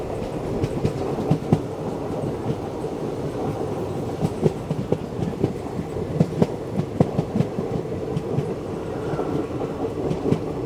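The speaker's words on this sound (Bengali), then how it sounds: "আর আমাদের ট্রেন বেশ একটা লম্বা বাঁক নিয়েছে।" The Rameswaram Express rolls steadily along the rails on a long curve through hills, a continuous rumbling roar with faint rhythmic clicks throughout, no voices.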